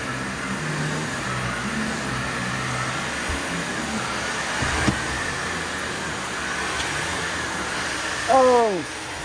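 A vacuum cleaner roars steadily while sucking up a heavy load of dirt, a continuous loud motor whoosh with brief bumps and a short voice-like sound at the end.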